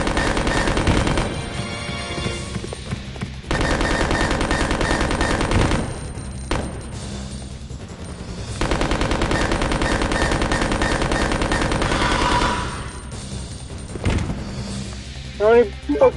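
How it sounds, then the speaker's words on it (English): Gunfire from the video game Resident Evil Code: Veronica X comes in sustained loud bursts with rapid repeated shots over game music and sound effects, with short pauses between the volleys. "How many fucking bullets you gotta put into them?"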